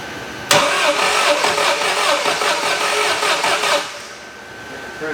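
A Suzuki Samurai engine cranks slowly on the starter, a steady, loud, laboring whir that begins abruptly after a brief pause and runs for about three seconds before cutting off, with no voices.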